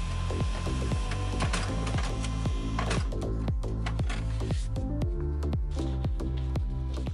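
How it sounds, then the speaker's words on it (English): An inkjet-style printer runs surfboard template sheets, loud repeating mechanical passes of the print head in a steady rhythm of clunks and whirs, close by and alone. "I can click print, and it will print it off"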